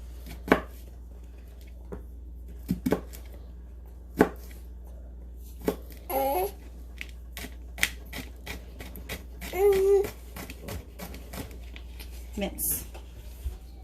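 Knife mincing food on a cutting board, a series of sharp, irregular chops close by, with someone speaking over parts of it.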